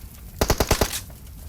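A burst of automatic gunfire in a shooter video game, about six close, loud, evenly spaced shots in under a second, with no talk over them.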